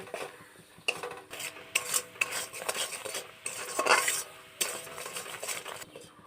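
A spoon scrapes and stirs boiling jaggery in a pan for jujube pickle, making repeated close, quiet strokes in an uneven rhythm with a faint bubbling underneath.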